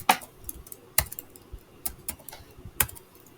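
Close, steady typing on a computer keyboard while R code for a data frame is entered. The keystrokes fall in irregular clusters, with a few sharper, louder key hits standing out, and no one speaks.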